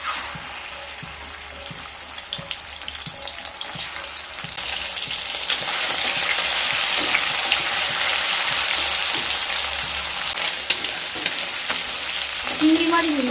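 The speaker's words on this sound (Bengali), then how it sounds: "সর্ষের তেল দিয়ে চিংড়ি মাছগুলোকে ভেজে নেব।" Prawns fry in mustard oil in a kadai, a close, steady sizzle that swells louder midway and holds, with occasional stirring knocks and no speech.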